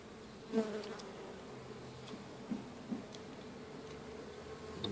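Honeybees buzzing faintly and steadily during a hive inspection of a top-bar colony, with a few louder close buzzes and soft knocks of handling.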